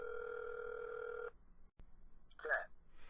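A telephone rings with a steady electronic tone for just over a second, followed by a sharp click and a short burst of a voice.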